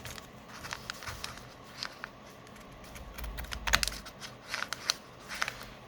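Scissors cut through Amazon packaging material for a soft journal cover in a series of quiet, uneven crisp snips and rustles, close and faint.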